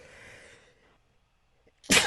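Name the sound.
sneeze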